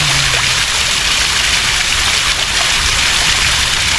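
KP Waterfalls at Khopoli pours with a loud, dense, unbroken rush of falling water that stays close and steady throughout.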